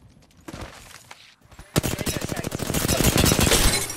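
Rapid automatic gunfire from a PUBG battle royale match, a few scattered shots giving way to a dense, sustained fusillade of close, loud bursts that swell in intensity toward the end.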